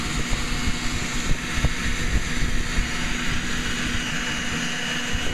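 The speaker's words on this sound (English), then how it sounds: "we're going to turn on our infamous blower" A leaf blower runs steadily, blowing air at a solar heater panel from roughly six feet back. Its loud, continuous whooshing roar stays even throughout, with a faint motor hum underneath.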